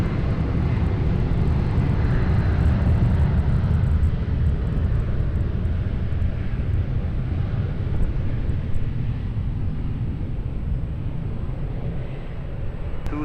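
A fixed-wing airplane at Lisbon Airport roars loudly and steadily with a deep, continuous engine rumble that persists throughout.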